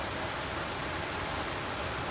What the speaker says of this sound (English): The sun is coming through and the water sounds fabulous.